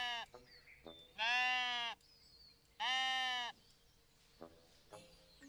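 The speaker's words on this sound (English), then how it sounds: "pet this sheep" Two loud, drawn-out sheep bleats from a sheep being petted in the cosy building game Tiny Glade, each about a second long with a pause between, with small soft game sounds in between.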